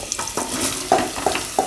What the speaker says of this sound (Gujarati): તો તેલ ગરમ થઈ ગયું, એમાં થોડુંક જીરું નાખશું અને થોડીક હિંગ અને આ સુધારેલું પમ્પકિન કે કોળ